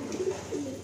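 A Kalanka pigeon cooing close by, two short low coos in under a second that end abruptly.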